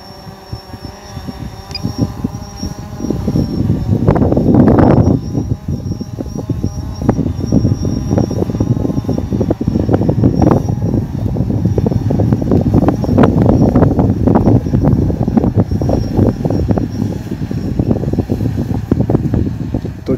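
Strong wind gusting outdoors, a loud continuous roaring buffet against the microphone with surging peaks, especially around the fifth second, and a faint steady high whine running underneath throughout.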